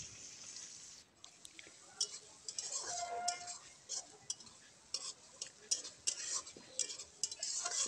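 Onions and chilies frying in a pan after fish has been removed, a hissing sizzle with intermittent clinks and scrapes of a utensil against the pan, close and fairly quiet, with no talk.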